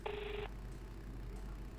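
A single short telephone ring sounds once and stops, a faint electronic trill over quiet room noise, the call going unanswered.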